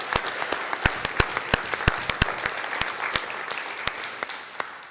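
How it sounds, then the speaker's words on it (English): Audience applause at the Brightstars of Bethlehem 2024 gala, a crowd clapping with sharp individual claps standing out over a steady wash of hands, close and fairly loud for the whole stretch. "Let's give them one more round of applause for setting up this amazing event."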